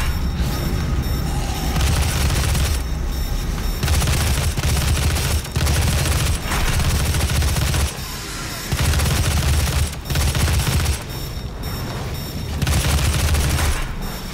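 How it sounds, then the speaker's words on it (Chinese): A heavy assault rifle in DOOM fires long, loud, rapid automatic bursts with booming impacts. The bursts are broken by brief pauses, and the sound is close and dominant throughout. "用重型突击步枪歼灭所有目标"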